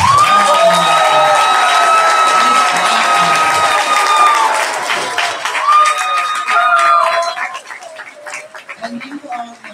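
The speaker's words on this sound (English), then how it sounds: "Let's give our sixth graders a huge round of applause." A crowd applauds and cheers for sixth graders at an elementary school promotion ceremony, clapping mixed with loud shouts and whoops from children and adults, fading out toward the end as voices carry over it.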